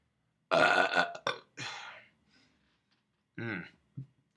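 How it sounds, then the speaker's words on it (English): Burps after drinking whiskey: a long, loud guttural belch, then a shorter burst, a rougher one, and two brief throaty belches after a pause, each up close. "Whiskey burps."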